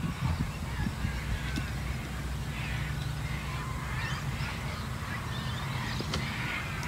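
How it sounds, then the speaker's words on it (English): A flock of cockatoos calling outdoors at a picnic, harsh screeches rising faintly at a distance over a steady low rumble of background noise. "All the cockatoos are coming."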